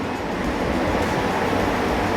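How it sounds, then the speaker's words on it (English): Air shower at an airline catering facility blowing a steady, loud rush of air, continuous broadband whoosh with no pauses and no talking. "This is an air shower."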